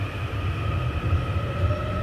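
A train rumbles steadily with low wheel noise and faint high-pitched whine, heard from on board as it moves along.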